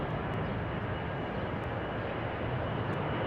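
Steady, loud broadband roar of a Delta airliner's jet engines at Salt Lake City airport, continuous and close with no talk over it.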